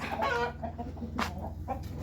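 Chickens and roosters cluck close by in a small farm enclosure, with several short, overlapping clucks and squawks in quick succession.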